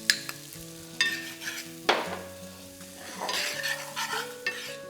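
Small shallots sizzle in Bresse butter in a pan, stirred with scattered utensil scrapes and clinks over a soft frying hiss.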